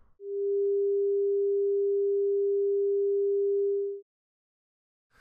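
A steady pure sine tone holds at one pitch for nearly four seconds, clean and constant, then cuts off into silence.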